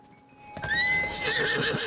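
A horse in Zelda: Tears of the Kingdom lets out a loud, close whinny that rises and trails off, with hoof clops underneath and a faint tone before it.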